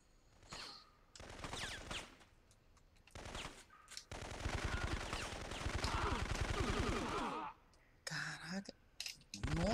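Rapid enemy gunfire from the PlayStation 1 shooter Syphon Filter, bursts of automatic fire crackling in clusters with a long sustained volley in the middle, loud and close, with someone talking around it.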